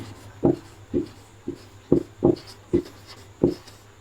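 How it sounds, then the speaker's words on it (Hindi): Pen writing an answer on paper, about eight short scratchy strokes in an uneven rhythm, close and clear, with a faint low background hum. "तो हम लोग लिखेंगे यहां पर मैत्रेयी।"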